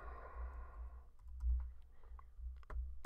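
Soft, scattered clicks of a computer keyboard being typed on, close and faint, with a few sharper keystrokes near the end and no speech.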